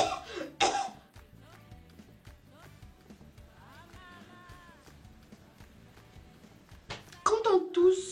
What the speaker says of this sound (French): Elle se racle même, si c'est la gorge, si c'est le nez, si c'est le larynx, je ne sais pas.